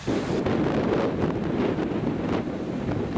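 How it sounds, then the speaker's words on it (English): Strong wind of about 25 miles an hour roars and buffets the microphone in loud, continuous low rumbling gusts, with no voices. "It's really windy. The wind's blowing at about, I don't know, 25 miles an hour"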